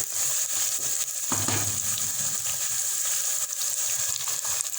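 Chicken pieces fry in a pan for kachnar gosht, giving a steady close sizzle with a brief louder burst of spattering early on and soft stirring scrapes, no talk.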